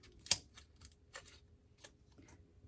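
Quiet, scattered snips and clicks, with one sharp louder snip near the start followed by softer irregular cuts.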